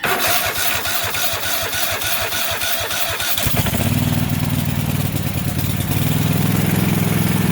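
A zero turn mower's engine cranks on its key starter in a rapid rhythmic chugging for about three seconds, then catches and settles into a loud, steady running roar.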